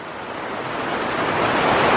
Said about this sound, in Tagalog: Kasi sobrang lakas ng ulan